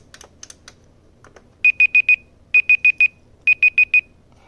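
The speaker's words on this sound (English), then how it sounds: "It's my laundry alarm." An appliance alarm beeping in three bursts of four sharp, high electronic tones, loud and close, after a few faint clicks.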